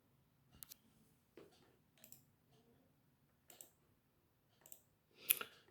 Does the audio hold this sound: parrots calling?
no